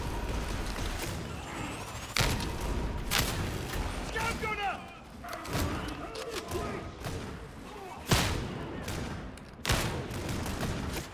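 Rapid video game gunfire as a weapon's magazine is emptied, dense overlapping shots with a few heavier thumps, loud and continuous, mixed with game noise.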